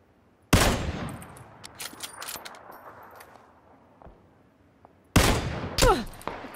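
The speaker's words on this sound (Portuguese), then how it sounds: "Onde é esse tiro?" Gunfire in the battle royale game PUBG: two sharp bursts of rapid shots, the first near the start and the second later, each loud against a quieter gap with scattered smaller clicks.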